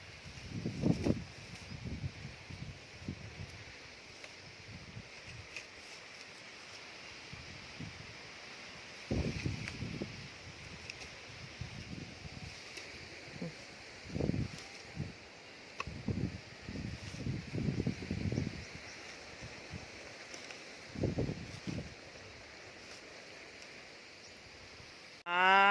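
A strong, cold wind rustles through leaves in bursts and gusts, rising and falling over a steady airy background.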